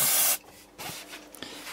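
Aerosol brake cleaner sprayed onto a 1960 Opel Kapitän P 2.6L, a loud, close hissing burst opening the moment, then a few softer, short spray puffs and faint handling noises.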